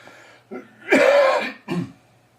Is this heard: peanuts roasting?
no